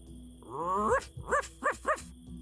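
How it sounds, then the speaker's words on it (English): A dog gives a rising whine followed by three short yelping barks, close and clear, with no talking. "it's just a dog"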